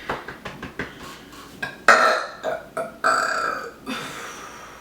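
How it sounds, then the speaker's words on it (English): A series of burps from a person in a college dorm room, several short ones followed by a couple of long, loud, drawn-out belches, with faint clinks between them. "So I need a burp."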